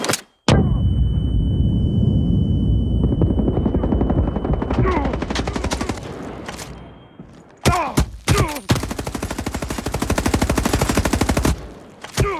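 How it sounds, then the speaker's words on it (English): Explosives blast through a destructible wall in the Android shooter Area F2, with sharp booming bursts, rapid gunfire and a droning helicopter-like rumble that together fill a loud, dense game soundscape, near and continuous with brief gaps. "Blast through the destructible wall to enter the room where the target is located and occupy it. Use the explosives to blast through the wall."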